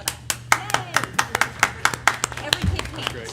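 A single person claps about a dozen times at a school board meeting, the sharp, close hand claps coming in a quick steady rhythm with a voice audible underneath.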